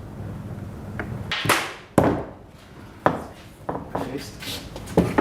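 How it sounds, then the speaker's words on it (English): Grub screws being taken out of the top pivot plate of a pivot door: sharp metallic clicks and scraping knocks at irregular intervals, close by, with people talking alongside. "We start by taking the grub screws out from the top pivot plate."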